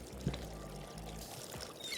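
Water pours steadily from a watering can in the video game Schedule I, a continuous low splashing stream with a short drop near the start, heard alone at moderate level.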